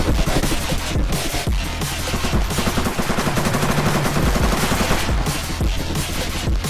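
Dense, continuous bursts of rapid gunfire from the Roblox game ER:LC, loud and unbroken, with overlapping automatic shots and no talking.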